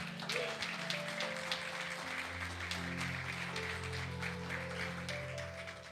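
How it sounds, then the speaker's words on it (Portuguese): A church congregation applauds with steady clapping throughout, while sustained organ or keyboard tones play underneath, moderately distant. "Você pode aplaudir ao Senhor Jesus."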